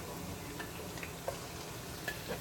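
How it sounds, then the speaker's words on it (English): Chicken wings fry in vegetable oil with a low, steady sizzle and faint crackle, with soft ticks and pops scattered through it and no voices. "I am going to let them fry"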